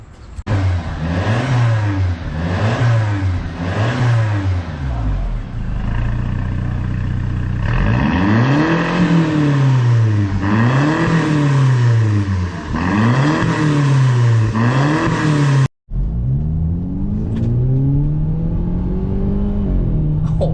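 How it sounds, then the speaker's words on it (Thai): A Mercedes-Benz W204 with an adjustable valved exhaust, valve open, revs up and down repeatedly with a loud, throaty roar, rising and falling in rhythmic sweeps, close by with no talking. "เดี๋ยวลองฟังเสียงนะฮะว่าเปิดปิดวาล์วคันนี้จะเป็นยังไงนะครับ"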